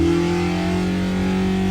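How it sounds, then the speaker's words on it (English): A car engine held at wide open throttle on a dyno with an R17 cam, a loud, steady drone with strong low harmonics running unbroken and alone. "I can literally go wide open throttle now at 1500 RPM."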